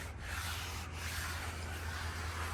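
A hand rubs back and forth over rough car paint covered with overspray, producing a steady, close, gritty scraping with no pauses.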